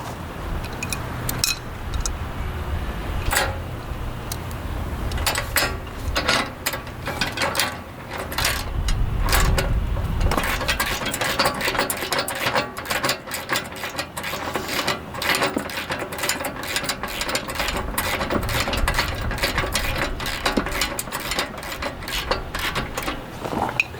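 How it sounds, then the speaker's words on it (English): A 17mm wrench ratchets steadily, tightening M10 bolts while assembling an Earthquake Victory self-propelled rear-tine tiller, giving dense close clicking that runs through the whole stretch with faint knocks and handling noise underneath and no talk. "to secure these M10 bolts, you'll need a 17mm wrench"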